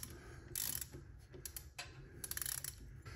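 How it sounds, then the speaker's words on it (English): A ratchet fitted with a T45 Torx bit loosens the final drive drain plug on a BMW R 18 motorcycle, making faint, close, intermittent clicking in a quiet space. "Now we're going to switch to the T45 and take out the drain."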